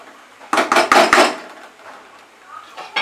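A lid clatters onto a metal pot of Bengali niramish aloo dum on a switched-off stove, several close, loud clanks in quick succession, then quieter faint rattles.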